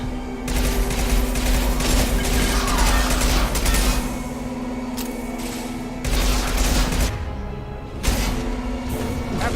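Gunfire in the video game Mass Effect 2: dense, loud bursts of automatic shooting and booms that run continuously, broken by brief pauses, over a steady humming game soundscape.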